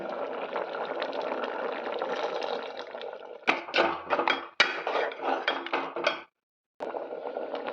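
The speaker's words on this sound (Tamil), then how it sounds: "இந்த டைமில் நம்ம வந்து தேங்காய் பால் சேர்த்திக்கலாம்." Coconut milk pours and splashes into a pot with clinking of a utensil against metal, steady and close, then a brief pause and more pouring.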